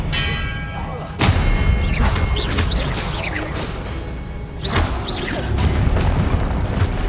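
Deep booming spell explosions in Hogwarts Legacy during a boss battle, two heavy blasts among swirling, whooshing magic effects and a dense, continuous roar of combat.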